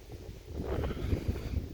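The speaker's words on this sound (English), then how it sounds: "It's a little windy, excuse me if that comes in the video." Gusty wind buffets the microphone at a tent campsite near rugged boulders, a low steady roar with brief thumping gusts, no voices.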